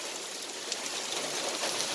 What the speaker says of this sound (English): it was raining really hard